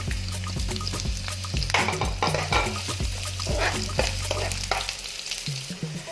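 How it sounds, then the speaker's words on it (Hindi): Chopped onions fry in hot oil in a pan. A steady sizzle runs under repeated scraping stir strokes, close and fairly loud, with no talk. "अब मैं इसमें डालूंगी जो मैंने अपनी चॉप कर रखी थी प्याज, इसको मुझे अच्छे से ब्राउन कर लेना है"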